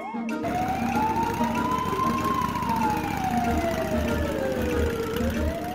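In a cartoon chase, a police car siren wails in long rising and falling sweeps after a brief burst at the start. It stays loud and steady over a low engine hum, and faint background sounds flicker near the end.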